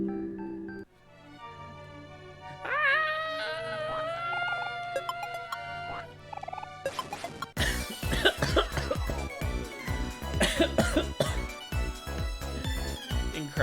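A character coughing in the video game Omori: harsh, repeated coughs mixed with game music and sound effects that build to a dense, loud passage.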